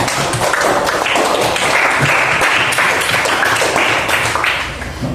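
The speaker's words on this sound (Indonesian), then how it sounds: "beri aplaus untuk kelompok 4" Loud, sustained applause from a group at an Indonesian teacher-training class presentation, dense clapping held steady for several seconds before easing slightly at the end.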